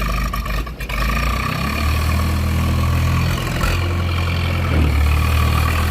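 A 1964 J I Case 830 tractor engine running close by, a steady low diesel rumble with a slight rise partway through, heard alone without talk.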